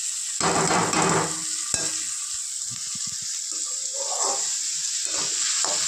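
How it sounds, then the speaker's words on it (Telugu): Coriander and curry leaves being stirred into a sizzling drumstick, tomato and mango curry, with a loud frying hiss and scattered scraping, clicking stirs in a pan. "తర్వాత కొత్తిమీర, కరివేపాకు, కడిగినటువంటి క్రమాన్ని అందులో వేసి కలయబెట్టాలి."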